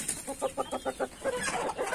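A hen clucks in a quick run of about eight short, evenly spaced clucks, close and clear, followed by softer, looser murmuring calls.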